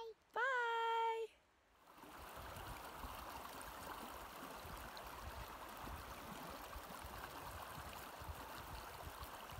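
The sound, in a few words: Hoh River flowing water in the rainforest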